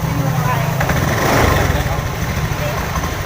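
Fuel-injected motorcycle engine idling roughly, given a slight blip of throttle that swells briefly and then sags as it falters toward stalling, with someone talking over it.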